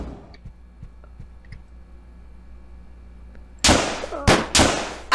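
Sharp gunfire bursts in a zombie video game, a loud shot followed by two or three quick blasts near the end, after several seconds of quiet ambient game noise.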